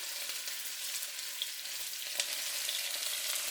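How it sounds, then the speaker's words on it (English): Sliced onions stir-frying in a pan with ginger paste, for a green bean and shiitake mushroom stir fry, make a continuous close sizzle with scattered light crackles throughout. "After that, we're gonna put some chop up sliced onions"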